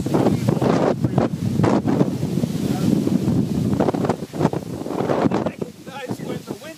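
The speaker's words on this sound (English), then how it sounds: "when the wind blows, it's going to be a little bit more difficult for you to hear us" Wind gusting outdoors on the Golan Heights and buffeting the microphone, a loud, steady rumbling roar that swells and eases, with faint voices under it.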